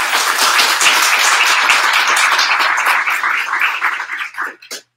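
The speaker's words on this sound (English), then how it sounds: "can we give our panelists a round of applause?" A crowd applauds with dense, sustained clapping that holds steady, then thins out and trails off into a few last claps.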